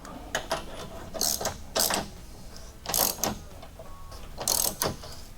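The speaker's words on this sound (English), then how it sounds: "Finally, have the chain tensioner set up" Chain tensioner on a Can-Am X3 with a swapped Hayabusa engine, working through a series of close mechanical clicks and ratcheting clacks in irregular short bursts.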